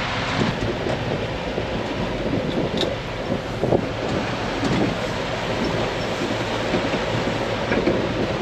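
Old engine, likely on a tractor or similar machine, running steadily with heavy wind noise buffeting the microphone, a loud continuous rumble throughout with no talking.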